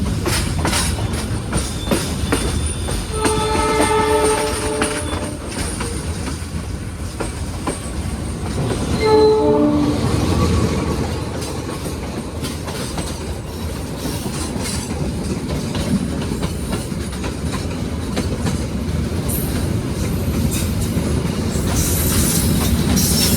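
Inside an economy class passenger train, the KA Logawa, riding the rails: a steady rumbling roll with clickety-clack of wheels and a couple of brief squealing tones, continuous and fairly loud throughout.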